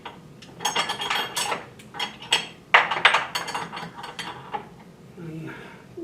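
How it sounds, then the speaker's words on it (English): Wrenches clink and ratchet as they are fitted onto a toolbox and turned, a scatter of close metallic clicks and scrapes arriving in short bursts separated by brief pauses. "Put our wrenches on."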